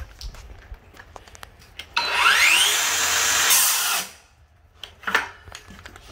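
A Kobalt XTR 7-1/4-inch cordless circular saw on an ultimate output battery makes a grain cut through wood: a loud, close whine and rasp lasting about two seconds, then it cuts off, followed by quieter handling noise.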